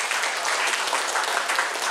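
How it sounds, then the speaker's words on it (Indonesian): Audience at a large community gathering giving a short burst of loud, dense applause, continuous hand clapping close up with no break and no talk on top. "Tepuk tangan."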